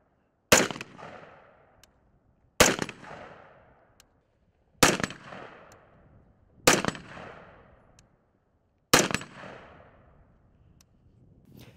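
Five rifle shots fired from a barricade position, evenly spaced about two seconds apart, each a loud sharp crack with a decaying echo.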